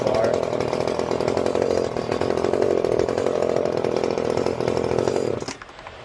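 An Echo CS-300 chainsaw runs steadily at a loud, buzzing high idle for about five seconds, then cuts off abruptly near the end.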